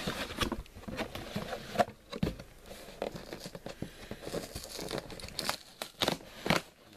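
Plastic packaging of a Playmobil Triceratops and baby dinosaur with tree set being opened, a close, irregular run of crinkling, rustling and tearing with sharp crackly bursts throughout.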